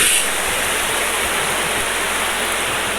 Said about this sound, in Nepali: यहाँ चाहिँ खोला रहेको छ है